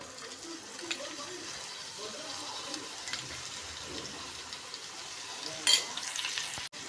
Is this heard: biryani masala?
yes